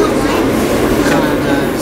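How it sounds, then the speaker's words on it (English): A New York City Q subway train on the Second Avenue line heading to 96th Street rolls along, producing a loud, constant rumbling roar from inside the car. "the train's moving"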